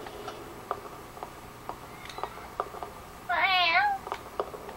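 A cat in a video game gives one clear, wavering meow over a steady background of ticking, close and fairly loud with no talk.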